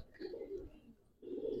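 Giribaz pigeons coo softly inside a loft, two low murmuring phrases separated by a short pause, close by and fairly quiet.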